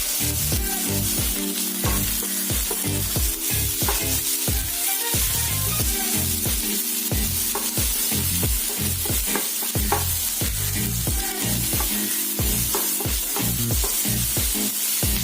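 Onions fry in oil with popped mustard seeds for a spicy ivy gourd poriyal. A steady sizzle runs throughout, with regular, rhythmic thumping and scraping stirring strokes close by for the whole fifteen seconds.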